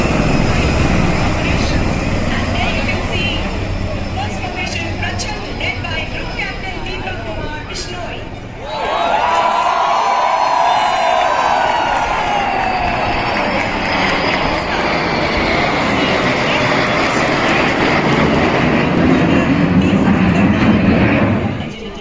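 Loud military helicopters and aircraft roar overhead in a Republic Day parade flypast, a heavy droning rumble with a rising whine midway, over a murmuring crowd.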